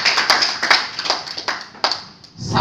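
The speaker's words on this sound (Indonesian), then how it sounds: "Tepuk tangan dulu" An audience clapping at a talk on an Umrah travel business, a moderate spread of hand claps in uneven bursts that thin out and fade by the end, with no voices over it.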